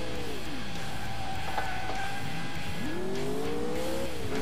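Race car engine in the video game Alarm für Cobra 11 Highway Nights, droning at high speed with rising and falling revs and tires squealing through a skid, loud and continuous with no talk.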